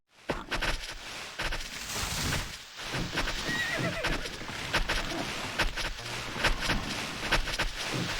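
Horses in the strategy game KaM Remake, with repeated neighs and whinnies over dense, continuous clip-clopping hooves throughout, fairly loud and busy.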